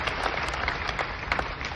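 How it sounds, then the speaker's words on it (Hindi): A crowd gives a brief burst of clapping to welcome a guest, Dr. Sunil Kumar, at a gathering, a short dense patter of applause at moderate volume. "एक बार जोरदार तालियों से इनका स्वागत"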